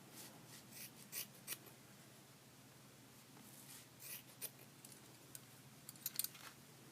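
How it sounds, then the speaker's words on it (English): Faint snips of scissors cutting a doll's hair at a rubber band, with a few soft, brief clicks spread over a quiet background. "so I'm going to cut it right at"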